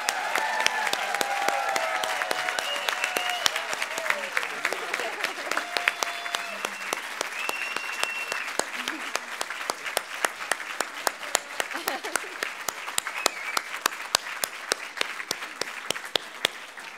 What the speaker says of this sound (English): Please give one more round of applause to Molly Dobson.